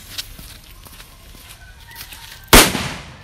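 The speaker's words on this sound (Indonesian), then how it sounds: "Mercon mini woodpecker diubah menjadi mercon kertas. Apakah bisa menyala? Kita nyalakan." A mini woodpecker firecracker wrapped in paper goes off with one loud, sharp bang near the end, after a quiet stretch of outdoor ambience and faint rooster calls.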